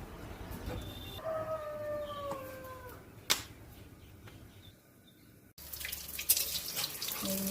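Running tap water splashes over freshly picked flowers in a sink, an uneven near gush with a few squeaky tonal whines early on and a louder burst of flow toward the end.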